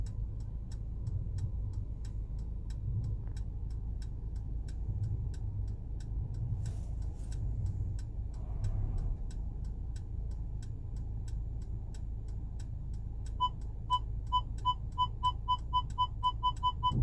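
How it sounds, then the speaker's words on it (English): Turn signal of a car using an automatic parking assistance system while parallel parking, ticking in a steady, even rhythm against a low hum of the car's interior, plainly audible and close, with no talking. "the car then turns on your turn signal"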